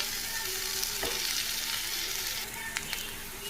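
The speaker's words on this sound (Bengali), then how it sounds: "এবার লাল করে ভাজতে হবে।" Potato and onion fry in a pan with a dense, continuous sizzle, broken by a few sharp scrapes and knocks of a stirring utensil, close and loud with no talk.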